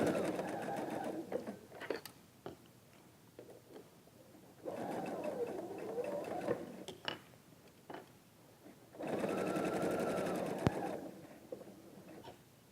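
A sewing machine stitches quilt blocks in several separate bursts of steady, close whirring, with quiet pauses and small handling clicks between runs.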